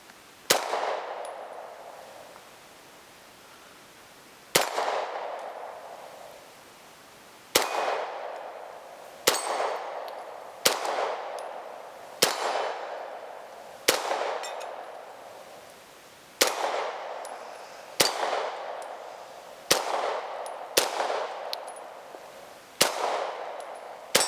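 Beretta M9A4 pistol fires rounds at steel targets, each shot a sharp crack followed by a ringing metallic clang, spaced irregularly over about two dozen seconds with ringing decays between hits.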